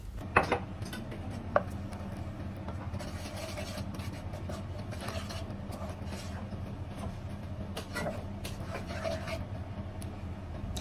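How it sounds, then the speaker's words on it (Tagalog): Burger steak sauce with oyster sauce and soy sauce is stirred in a pan, giving light scraping and clinking of a utensil against metal, with a few sharp taps early on over a steady low background hum. "Then lagyan na natin ng isang kutsarang oyster sauce, isang kutsarang soy sauce, saka natin haluin ng maigi."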